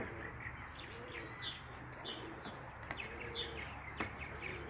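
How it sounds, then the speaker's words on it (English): Purple martins chatter faintly in the distance from backyard birdhouses, giving a steady scatter of soft chirps and twitters over a low background hum. "you can hear all my purple martins in the background"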